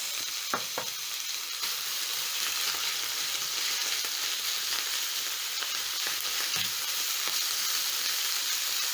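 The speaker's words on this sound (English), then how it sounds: "Then I'm going to be adding in my minced meat." Minced meat fries in cooking oil in a pan over medium heat, a loud, continuous crackling sizzle with a few brief clicks of a spatula, no talking.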